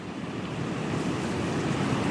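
Strong storm winds gusting in Apalachicola, Florida, a loud continuous roar buffeting the microphone and swelling slightly, with no voices.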